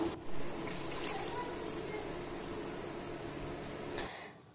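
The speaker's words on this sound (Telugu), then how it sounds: "వాటర్ పోసి దాంట్లోకి యాడ్ చేస్తున్నాను" Water poured into chicken biryani gravy in a cooking pot, a steady soft splashing stream lasting about four seconds before stopping abruptly, fairly quiet and without talking.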